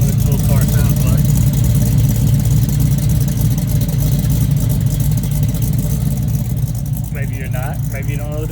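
A loud car engine runs and revs close by, a steady rumbling roar with rising pitch sweeps near the end.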